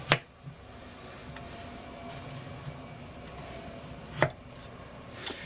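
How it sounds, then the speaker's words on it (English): A knife cuts through raw sweet potatoes on a board in three sharp, isolated chops, spaced seconds apart over quiet kitchen background. "I'm going to cut it in half longwise"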